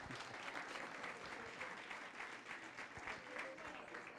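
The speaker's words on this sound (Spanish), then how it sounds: "dele un aplauso a Dios" A church congregation at a Spanish-language service breaks into steady, dense applause, a close wash of many hands clapping at once that holds at an even level throughout.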